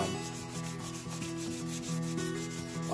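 A guitar finish is dry sanded by hand with 1,000 grit auto body finishing pads, making quiet, rhythmic back-and-forth rubbing strokes over a faint steady hum.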